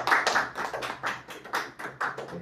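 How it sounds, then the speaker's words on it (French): Classroom applause for a student, a quick burst of clapping hands in an irregular rhythm, fairly close and moderately loud, with no talking over it. "Applaudissez-la."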